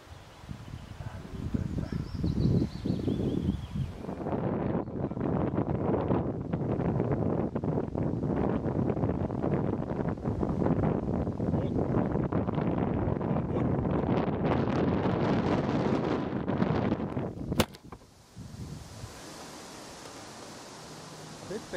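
Strong wind buffeting the microphone outdoors during a tar-coating job, a loud roaring rush of gusts that swells and holds for much of the clip, then cuts to a quieter background after a sharp knock.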